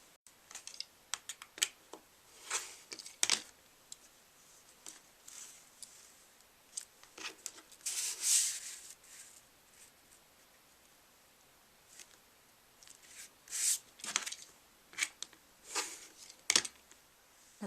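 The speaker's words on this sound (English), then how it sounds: "this works faster if you stack several pieces on top of one another while you're making your cuts" Scissors snip through a stack of scrapbooking paper strips in a series of sharp, close, crisp cuts separated by short pauses, with faint rustling of paper in between.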